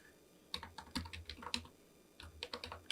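CSS code is typed on a computer keyboard in quiet, close bursts of quick keystrokes, with short pauses between runs of clicking and no talking.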